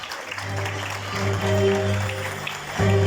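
An audience applauding at a gala evening as the chairman of a Gaziantep industrialists' and businesspeople's association is invited to the stage, with steady clapping under a sustained musical tone and no clear talking.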